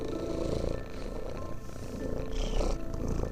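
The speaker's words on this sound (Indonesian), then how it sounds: "Itu yang kerur-kerur itu suara kucing" In the horror video game Pieces of Me, a cat gives a low, rumbling purr mixed with growling against eerie ambient noise, steady and fairly close throughout with no talking.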